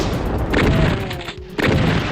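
Heavy gunfire booms in a first-person shooter game, a shotgun among the weapons, with dense repeated blasts and rumbling impacts at high volume and no voices.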